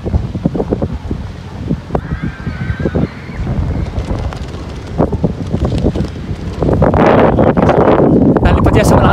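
Strong wind buffets the microphone at an outdoor kite-flying session, with gusty rumble throughout that swells into a loud, steady roar near the end as voices talk over it.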